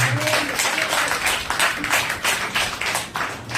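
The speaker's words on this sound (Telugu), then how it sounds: "గట్టిగా చప్పట్లు కొడుతున్నాడు." A church congregation claps loudly during a Telugu sermon, giving a dense, steady wash of many hands with rhythmic surges, close and sustained throughout.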